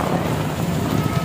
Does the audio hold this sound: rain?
yes